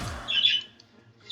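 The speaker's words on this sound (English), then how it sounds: "Listen to those birds. They just want to be loved." Pet birds squawking indoors, a sharp nearby squawk followed by a brief pause and another squawk starting, loud and alone.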